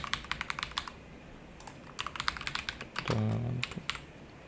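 Typing on a computer keyboard, with quick bursts of close, clicky keystrokes, short pauses between bursts and a brief heavier clatter near the end.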